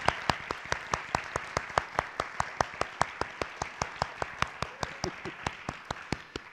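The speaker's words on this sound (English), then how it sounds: "the thunderous applause covered up their names" At a college honors convocation, an audience applauds the outstanding scholars with steady, evenly spaced claps standing out above a softer bed of clapping.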